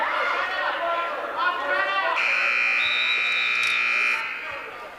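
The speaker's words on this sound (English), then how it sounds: "that buzzer is on the red mat" A loud electronic buzzer sounds a sustained two-second blast at a girls' varsity wrestling match, coming in over crowd chatter and a nearby announcer's voice in a gym.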